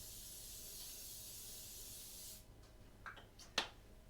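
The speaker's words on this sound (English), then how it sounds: "We're gonna spray our pan to make sure we got a nice layer to keep that from sticking." Cooking oil spray hissing onto a pan: a steady spray hiss for over two seconds, then stops, followed by a few faint clicks and a sharp tap near the end.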